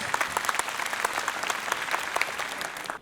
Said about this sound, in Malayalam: ഒരു നല്ല ക്ലാപ്പ് വേണം